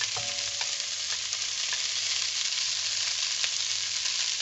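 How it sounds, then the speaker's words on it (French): Lardons sizzle steadily in a hot pan for a lentil, sausage and chorizo dish, a dense, even frying hiss with a few brief clinks of a utensil near the start and no voices. "Donc je rajoute les lardons."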